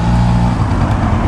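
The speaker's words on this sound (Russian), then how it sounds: "Это же это, ретро-скутер. Он не должен греметь, он должен тихо ехать." A retro scooter engine idles quietly and smoothly, a low steady hum close by that eases slightly partway through, with no talking over it.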